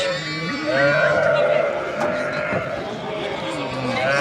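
A black sheep bleats at a livestock sale among farm animals, with a wavering bleat through the middle of the clip over a busy crowd murmur and people talking.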